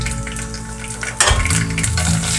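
Cumin and a dried red chili fry in hot oil for sambar, giving a close, steady sizzle that jumps louder midway as the chili drops in, with light stirring and no talking.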